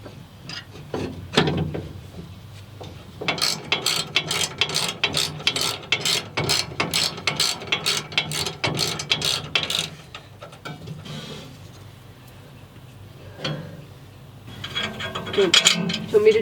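A ratchet clicks steadily in a long rapid run while bolting an iMac wall mount, close and fairly loud, then stops and picks up again in a few short clicks near the end.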